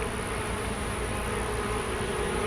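Dense, steady buzzing of many honeybees around an open hive during an end-of-May inspection, loud and continuous throughout with no talk.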